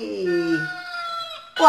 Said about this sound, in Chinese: 这个你有没有听到公鸡在叫？